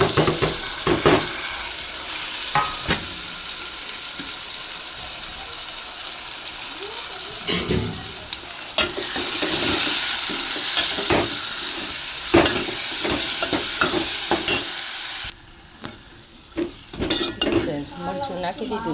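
Tomatoes fry in a pan for a chickpea curry cooked at a farm. Frequent metal clinks and scrapes of a spoon stirring ride over a bright, continuous sizzle, with a short quieter stretch near the end.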